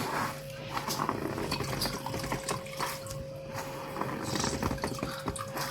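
Liquid squeezed by hand from filtered chaff while making agidi gives faint, wet trickles and drips over quiet kitchen background, with soft squelching pulses throughout.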